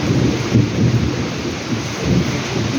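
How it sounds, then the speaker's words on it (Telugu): Steady heavy rain roars continuously with deep rumbling thunder rolling underneath, loud and close, with no voices. "బయట అయితే ధూమ్ధామ్గా వర్షం పడిపోతుంది అన్నమాట"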